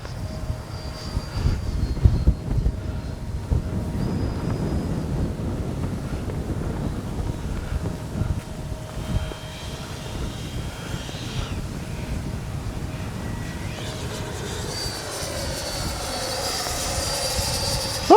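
A Freewing 90mm F-22 radio-controlled jet flies in strong wind with its gear down for landing, a continuous whining ducted-fan roar buffeted by gusts against the microphone, shifting in pitch as it passes.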